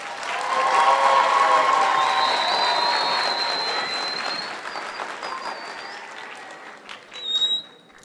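Audience applause at an 8th grade promotion ceremony, a dense roar of clapping from a large crowd that holds steady, then thins and fades, with a brief whistle and cheer near the end.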